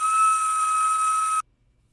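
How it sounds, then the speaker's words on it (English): A party whistle from a birthday party gives one shrill, steady blast lasting over a second, loud and close, then stops abruptly into silence. "I also have this whistle that I got at the birthday party."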